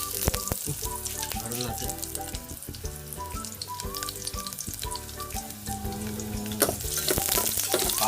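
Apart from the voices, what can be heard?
garlic frying and sizzling in a pan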